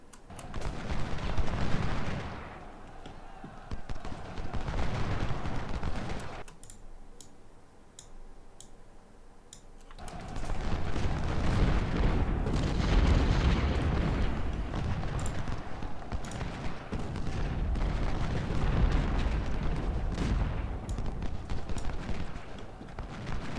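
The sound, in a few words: cannon and gunfire in Ultimate General Civil War video game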